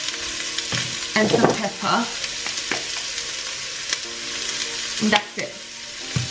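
Onions fry with salt and pepper in a pan for chicken firecracker, a steady close sizzle broken by scraping stirs and clatter, as someone talks over it.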